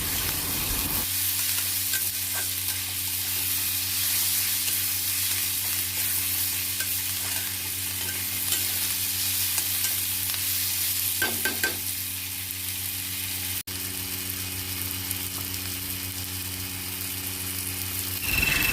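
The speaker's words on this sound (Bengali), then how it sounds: "পেঁয়াজটা খুব তাড়াতাড়ি নরমও হয়ে যায় আর তাড়াতাড়ি ভাজাও হয়ে যায়" Onions frying in a pan and being stirred: a steady, loud broadband sizzle runs throughout, with a brief clatter of the utensil near the middle and no talking.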